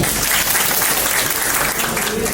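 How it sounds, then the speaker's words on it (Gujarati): Audience at a CPR training session for staff and nurses in Rajkot clapping for Piyushbhai, a brief dense burst of applause throughout. "પિયુષભાઈ માટે તાળીઓ પાડો"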